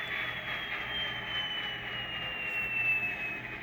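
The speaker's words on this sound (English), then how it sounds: "And then when you hit F6, when you're at idle, that's what goes ahead and shuts it down." HO scale EMD GP35 model diesel locomotive with a Tsunami 2 sound decoder, a steady rushing engine drone with a high whine that holds evenly throughout, fairly loud and alone with no talk.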